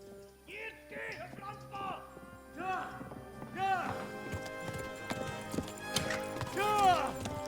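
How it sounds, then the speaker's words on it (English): A horse gallops in the medieval video game Kingdom Come: Deliverance, its rhythmic hoofbeats steady and fairly close under someone talking, with game sounds and a whinny-like cry mixed in. "Run, my horse. I know you are tired."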